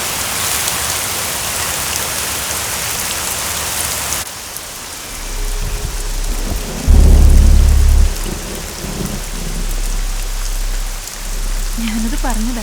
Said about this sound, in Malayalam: നന്നായിട്ട് ഇടിയും വെട്ടുന്നുണ്ട്.